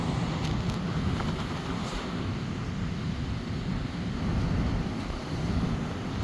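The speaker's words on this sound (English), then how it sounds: "Look at those waves." Giant ocean waves crash and roar in damaging winds, a dense, continuous wash of surf under heavy wind buffeting on the microphone, loud and unbroken throughout with no voices.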